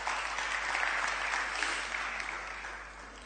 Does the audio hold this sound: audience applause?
yes